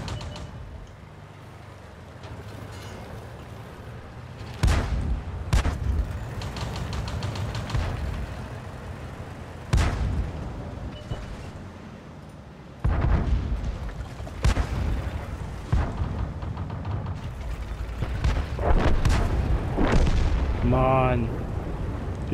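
Tank battle in World of Tanks, with several sharp cannon blasts and rumbling explosions spread over a dense, noisy game soundscape while a player talks at times.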